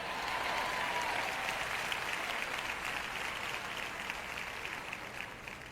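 A church congregation at a French-language sermon applauds in a steady, even wash of clapping, moderately distant and fairly soft, sustained throughout without pause.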